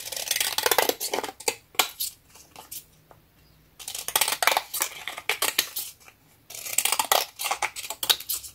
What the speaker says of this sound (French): je vais le couper comme ça